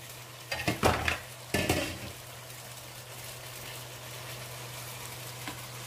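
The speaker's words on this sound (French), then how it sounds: "Voilà, la sauce est en train de mijoter." A sauce of onions, peppers, chili and tomatoes simmering in a pot, a soft steady bubbling hiss with two brief loud stirring clatters near the start, then quieter simmering.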